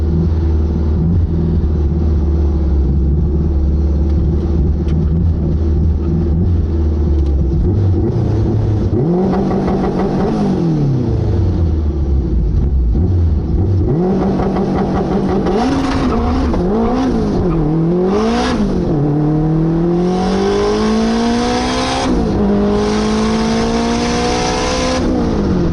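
A 600hp all-wheel-drive Honda Civic drag car roars loudly and continuously, idling heavily, then revving up and surging through several rapid gear shifts as it launches down the strip.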